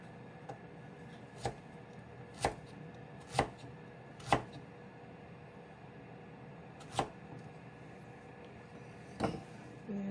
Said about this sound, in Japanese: 生姜を1かけらと長ネギを半分ほど、それと、薄くっていうかざっくり切りにして